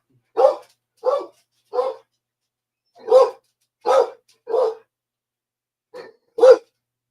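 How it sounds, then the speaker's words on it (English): Close, sharp barks from a dog come in clusters: three, then three more after a pause, then a final pair, each bark short and separate with silence between. "My dog's barking."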